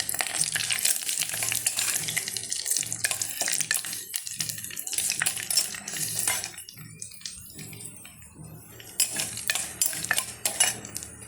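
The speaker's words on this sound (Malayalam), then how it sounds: "കടുക് പൊട്ടുമ്പോൾ നമുക്കിത് ഇതിനകത്തേക്ക് ഒഴിച്ചിടും." Mustard seeds splutter and crackle in hot oil as a tempering for chutney served with a dosa breakfast, a dense continuous sizzle with occasional stirring scrapes close by.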